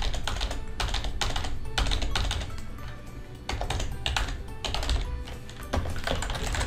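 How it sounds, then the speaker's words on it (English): Rapid, continuous clatter of keys on a computer keyboard as payment details are entered, with short bursts and brief pauses between them, close and clear without speech. "simply type in the information here"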